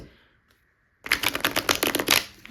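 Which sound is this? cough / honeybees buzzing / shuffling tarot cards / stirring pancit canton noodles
shuffling tarot cards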